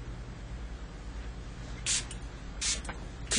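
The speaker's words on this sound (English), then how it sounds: "Keep your eyes closed so you just spray it over your head." A spray bottle mists over someone's head during a gemstone therapy session, two short hissing bursts standing out above a steady low hum in a quiet room.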